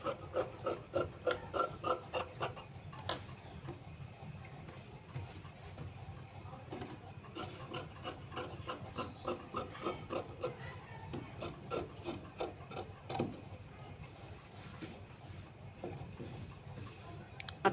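Scissors cut blouse fabric along cross markings, with no paper pattern used; quiet, close, rhythmic snipping and rasping strokes repeat steadily in short runs, with no one speaking.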